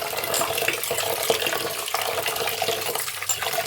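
Rice being washed by hand in water under a running kitchen tap, a continuous close splashing and gushing of water with swishing.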